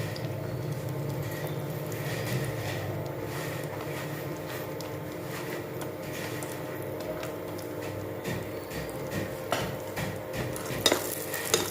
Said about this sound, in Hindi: ये फिर से कढ़ाई रख दिए और पहले किशमिश डाल देंगे